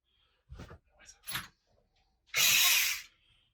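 A handheld electric screwdriver whirs in one loud, steady burst of just under a second while a titanium chassis is fitted to an Arrma Typhon RC car. A few soft clicks and knocks from handling the parts come before it.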